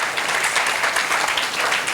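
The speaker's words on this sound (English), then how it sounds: "Give a round of applause," Audience applause at a panel discussion on leadership, a dense, even burst of many hands clapping that fills the whole moment without talk.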